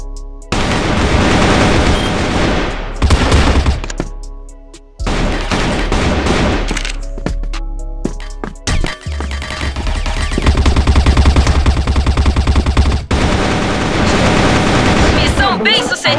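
Loud bursts of rapid gunfire and machine-gun fusillades ring out in a shooter video game, arriving in several dense volleys broken by short silences, with a player talking among them.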